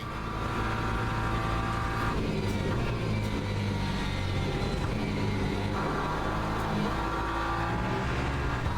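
A hypercar engine drones in the Le Mans Ultimate racing game, a loud continuous roar with steady pitch shifts as the car runs close by, filling the whole stretch without pause.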